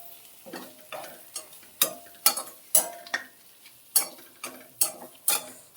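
A spoon scrapes and clatters through a spiced chicken masala mixture in a pan, about a dozen sharp stirring strokes at an uneven rhythm with soft sizzling between them.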